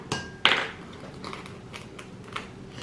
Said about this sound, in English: I'm getting notifications and shit.